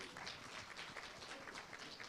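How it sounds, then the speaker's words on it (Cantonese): Audience at an insurance awards ceremony applauding for Alan, a steady wash of many hands clapping at moderate distance, continuous without pause. "俾啲掌聲 Alan。"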